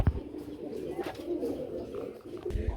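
Running pigeons at a pigeon farm give low, throaty coos in a steady murmur, heard close, with a few soft thumps and light rustling.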